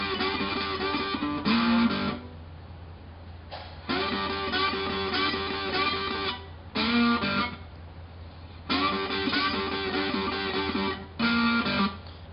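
Slide guitar lick played on a cigar box guitar, with sliding notes into two open strings, repeated in several short bursts with brief pauses between them and no talking.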